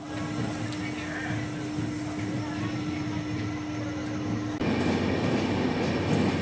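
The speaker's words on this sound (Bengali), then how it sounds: "অবশেষে প্রায় 35 মিনিট হল্টের পরে রাত 8:55 ট্রেন নিউ হাফলং থেকে ছেড়ে পরবর্তী গন্তব্য বদরপুরের উদ্দেশ্যে" A passenger train leaving New Haflong station at night rumbles steadily along the rails with a continuous low hum and a sustained tone. The noise grows louder and broader near the end as it picks up speed, and voices can be heard faintly over it.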